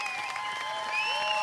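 A distant stadium crowd at the IRONMAN 70.3 World Championship women's race in Lahti, Finland, gives a brief, soft, steady round of applause.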